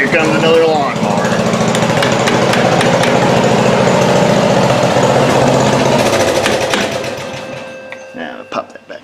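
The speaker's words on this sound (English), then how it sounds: "Here comes another lawnmower." A nearby lawnmower engine drones loud and steady, with metallic rattling over it, before fading toward the end; a voice speaks briefly over the start.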